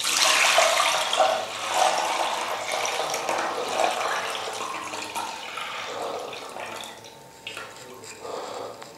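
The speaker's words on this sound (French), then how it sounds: "Donc pour cela on va verser tout le liquide." Liquid poured off a homemade magic paste mixture, a continuous close splashing and trickling stream that gradually tapers and thins toward the end, with no talking.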